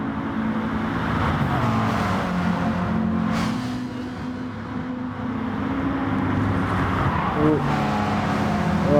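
Racing cars in a Gran Turismo-style video game race on Tokyo Expressway's east outer loop, engines droning steadily and loud throughout as several cars rev and pass, with a brief whooshing sweep near the middle.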